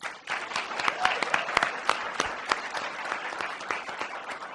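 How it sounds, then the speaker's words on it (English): A conference room full of people applauding steadily, dense overlapping claps at moderate volume with no voices. "Let's give them one more round of applause."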